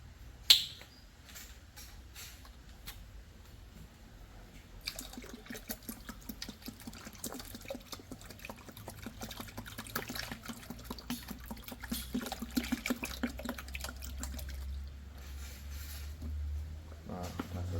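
Liquid fertilizer mixed with liquid phosphate and potassium sloshes and trickles in a container, faint and close, the splashing building into a busier, steady churning after a quiet start.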